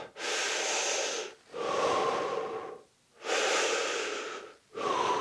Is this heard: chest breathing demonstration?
yes